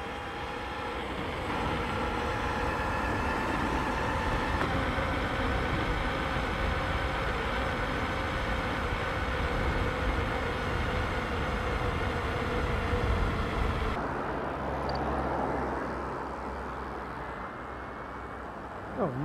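A Paradox Kinetics V3 electric motor is ridden flat out, putting out a steady high-pitched whine over rough rushing wind and road noise that eases off near the end.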